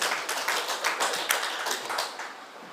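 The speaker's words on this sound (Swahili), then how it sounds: "Karibu, makofi kwake." Audience clapping at a hospital accident and emergency unit opening ceremony, a dense sustained burst of many hands applauding, fairly loud throughout with no talking.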